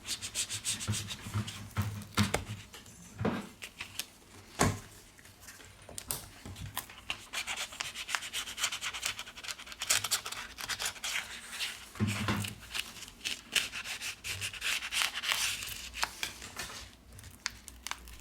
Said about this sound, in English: We use a plastic card to cut the adhesive.